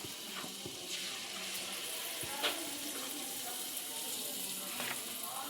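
Ladlefuls of batter poured into hot oil for festival sweets, giving a steady soft sizzle and bubbling with a few faint clinks and splashes throughout.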